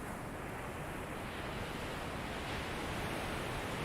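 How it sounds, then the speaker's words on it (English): Continuous washing of surf on a shore, a dense, even hiss of water that swells slightly louder toward the end. "Continue to listen to the sound of the water"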